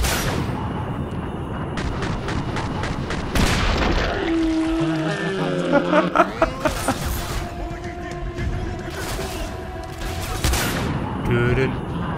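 Rifle fire in the video game Singularity: bursts of loud, rapid shots and booming impacts repeating over several seconds, with someone talking over the action.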